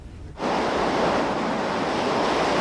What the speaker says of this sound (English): This is what it's like to stand in 75-mile-per-hour wind.